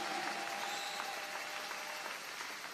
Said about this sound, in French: Des acclamations à Jésus-Christ